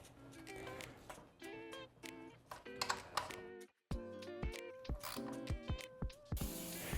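Bolts on a Yamaha Warrior 350 chain guide are tightened down with thread locker, giving rapid ratcheting clicks in repeated bursts, close and clear, with a short pause midway.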